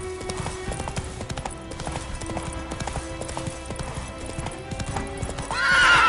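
Horse hooves clip-clop in a steady rhythm, close and clear, and a loud whinny rises at the very end.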